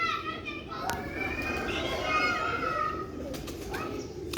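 Pure old-breed Ferozpuri pigeons coo softly amid a busy outdoor backdrop of children's voices and chatter, the low calls rising now and then under the steady noise.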